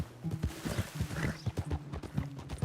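Horse hooves clip-clop at a steady walking rhythm in the Red Dead Redemption video game, fairly close with a low background hum.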